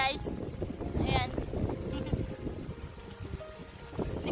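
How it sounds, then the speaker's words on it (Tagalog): Strong wind buffets the microphone outdoors in a rural Philippine setting while cutting saba banana, a steady broadband roar running through the whole stretch with faint speech-like sounds and small knocks mixed in. "Sobrang hangin dito"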